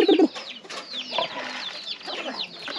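A rooster in a Nepali village clucks with short, repeated calls, mixed with other bird chirps nearby, fairly close and continuous, with no talking.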